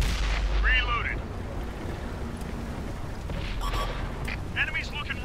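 In the World of Tanks video game, a heavy IS-7 tank gun fires with a deep, booming blast, followed by rumbling battle noise and game radio chatter, while a player talks over the action.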